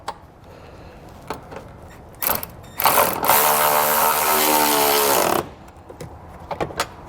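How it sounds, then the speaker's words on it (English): Bolts tightened with a 7/16 inch socket and ratchet wrench while installing a Curt trailer hitch receiver on a 2021 Chrysler: a few metallic clanks, then a loud, close, continuous ratcheting whir lasting about two seconds, followed by more light taps. "we're going to take a 7/16 inch socket and wrench, and we'll go ahead and tighten those bolts down"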